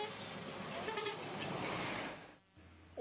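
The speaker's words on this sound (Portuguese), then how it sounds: "Alguns motoristas buzinam ao se aproximar da rotatória." Traffic noise with short car horn toots sounding as drivers approach a roundabout, over the rumble of passing vehicles, fading to a quieter moment before a sudden new sound.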